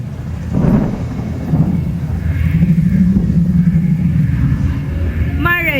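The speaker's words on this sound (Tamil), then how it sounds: "இடி இடித்தது" Recorded thunder effect played during a children's stage story at an annual day show: deep rolling rumbles swelling and fading over a steady low roar, with a brief high chirp at the very end.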